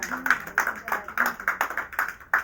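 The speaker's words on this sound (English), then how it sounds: "Can we give Jesus a clap?" A church congregation claps in a quick, steady rhythm, a run of sharp, close hand claps at a lively pace with a faint voice underneath.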